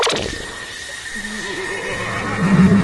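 A horse lets out a wavering neigh that builds into a louder whinny near the end, heard fairly close and alone over a low background.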